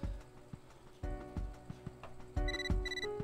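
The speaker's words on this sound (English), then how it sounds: "Oh, phone's ringing." A phone rings in the video game Catherine as a quiet electronic chime in short repeated tonal beeps, heard over a soft ticking, rhythmic game soundtrack.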